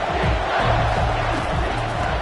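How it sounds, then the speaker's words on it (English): A packed football stadium crowd at an Oklahoma State game against Tulsa roars on third down, a loud, dense wall of voices that holds steady throughout. "Decibels rising as the crowd gets behind this defense on 3rd down."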